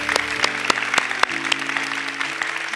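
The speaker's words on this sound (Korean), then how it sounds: "감사의 박수를 드리겠습니다" A church congregation claps in thanks during an Easter Sunday service, sparse individual claps standing out sharply over a sustained organ or keyboard chord that continues underneath.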